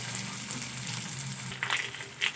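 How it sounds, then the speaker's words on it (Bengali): Pumpkin and potato fry with spices in a pan, a close, steady sizzle broken by a couple of short scraping stirs toward the end. "কুমড়ো আর আলু আর একটু মশলার সঙ্গে ভালো করে আমি কষে নেব।"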